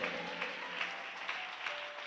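A church congregation applauds together in a continuous wash of clapping. It sounds fairly distant and faint, fills the whole short stretch, and comes with no clear speech on top.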